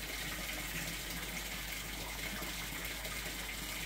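A hose fills a garden pond with water, a faint, steady gushing wash that stays even and continuous from start to finish, with no talking.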